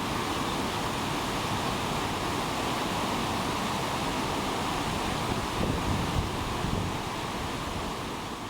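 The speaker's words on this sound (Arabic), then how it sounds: "أحلى شيء صوت المي من ينزل بالوادي" Steady broadband rush of water flowing down a river through a valley in Sicily, continuous and fairly loud with a slight swell near the end, no voices.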